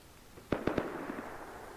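Three quick gunshots ring out in the survival video game Rust, sharp and fairly loud bursts in rapid succession followed by a faint fading tail, with no voices.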